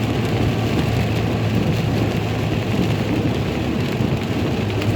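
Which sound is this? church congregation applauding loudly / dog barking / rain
rain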